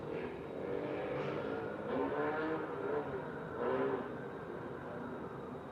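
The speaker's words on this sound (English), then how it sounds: "I'm still hearing the motorcyclists. They're still there." A long procession of motorcycles rumbles past outdoors, a continuous distant engine drone whose swells rise and fall as bikes go by, heard from inside at a faint, muffled level.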